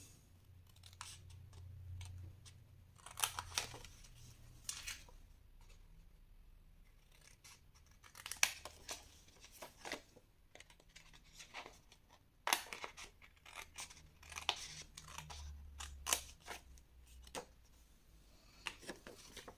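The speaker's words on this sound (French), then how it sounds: "Ensuite, vous allez couper cette partie-ci." Scissors snipping paper for scrapbooking advent calendar boxes, a series of short, close crisp cuts in irregular clusters, fairly quiet with a low hum between them and no talking.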